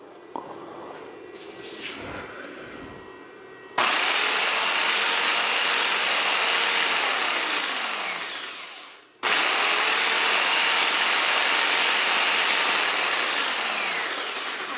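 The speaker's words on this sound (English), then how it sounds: "it's another power tool, but it's a skill saw" A skill saw powered by a Refuge 100 Pro solar generator roars loudly and steadily for about ten seconds, with a brief dip midway as it spins down and starts again, after some quieter handling noise at the start.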